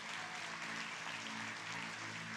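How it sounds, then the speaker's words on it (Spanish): A church congregation claps for the Lord in a steady, faint, distant wash of applause that lasts a couple of seconds, with a low hum beneath it. "Dale un fuerte aplauso al Señor."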